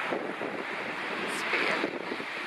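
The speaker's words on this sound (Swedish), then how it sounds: "det blåser typ 8 meter per sekund om inte mer" Strong wind of about eight metres per second at a sailboat harbour at high tide, a steady loud rushing buffeting the microphone, with water noise beneath and faint voices.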